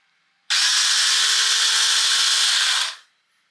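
A small battery-powered chainsaw switches on and runs at a steady, loud high-pitched whir for about two and a half seconds before cutting off, close by with no talking.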